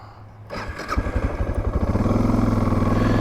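A Suzuki DR650 motorcycle engine catches after a quiet moment and settles into a loud, close, steady idle with a rapid, even thumping pulse that grows stronger toward the end.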